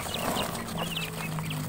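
Two-week-old guinea fowl keets peep in a crowded brood, a busy overlapping stream of short high chirps heard close and without speech.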